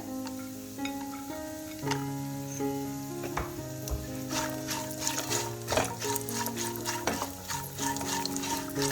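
Cashews and flaxseed laddu ingredients frying in a pan, a steady close sizzle with occasional stirring scrapes and clinks, no talk.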